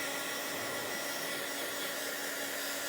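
A hair dryer blows steadily and loudly at close range, drying a Bible journal page with a constant whooshing roar that holds unchanged throughout, no speech.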